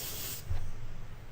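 A short hiss from a spray gun laying down a base coat with a slight purple tint, lasting under half a second before cutting off and leaving only a dull low rumble.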